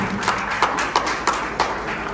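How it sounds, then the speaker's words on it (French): An audience applauds for Côte d'Ivoire at an event, clapping under a steady crowd wash with several louder sharp claps spaced evenly through it. "Applaudissez, s'il vous plaît,"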